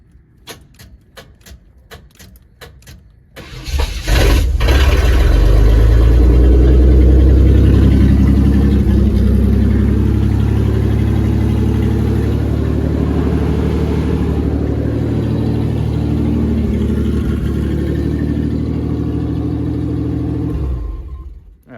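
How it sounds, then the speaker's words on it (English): A 1991 Chevrolet Blazer engine running with open exhaust manifolds and no muffler cranks briefly, then fires up into a loud, harsh, rapid-ticking idle that runs steadily for about eighteen seconds before being cut off. "Fire up with open headers for a quick second. Or open exhaust manifolds."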